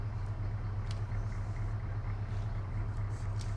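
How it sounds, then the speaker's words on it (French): A vehicle engine idles in the military game ArmA 3, a steady low rumble with a fixed hum. It holds even and continuous throughout, with only faint clicks above it and no talk. "Éteins ton moteur s'il te plaît."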